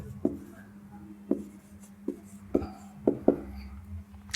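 Handwriting a word, heard as a series of close, crisp pen or marker taps and strokes at an irregular pace over a low steady background hum.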